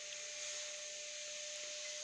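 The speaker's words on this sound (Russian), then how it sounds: "у меня просто на фоне пылесос шумит" A household vacuum cleaner runs steadily in the room, a constant broadband whooshing drone with a thin whine, unbroken and fairly close throughout.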